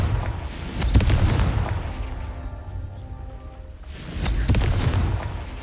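In the Hogwarts Legacy video game, the Confringo blasting spell sets off a heavy booming explosion near the start, followed by a rumbling decay and a second burst of blasts later.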